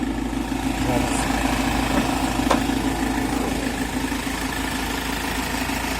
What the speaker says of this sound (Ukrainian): Мотор чисто робить без всяких посторонніх звуків.